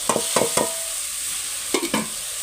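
Ginger paste and spices go into hot oil while a spatula scrapes and stirs the pan, giving a few short bursts of stirring over a soft, steady sizzle with no talking.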